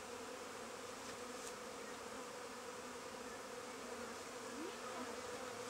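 Honeybees buzz steadily around hive frames as a colony is worked, a continuous dense hum with no voices and only slight shifts in pitch.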